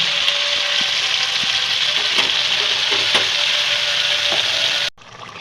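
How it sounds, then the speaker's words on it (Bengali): Chicken pieces fry in a pan with salt and turmeric, giving a steady, close sizzle with light stirring scrapes throughout that stops abruptly near the end. "চিকেনটা ভালো করে ভেজে নিলাম নুন আর হলুদ দিয়ে"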